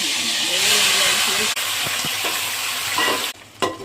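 Loud, dense sizzling hiss as marinated prawns for prawn biryani fry in hot oil, then the sound drops off sharply toward the end, with a few faint clinks.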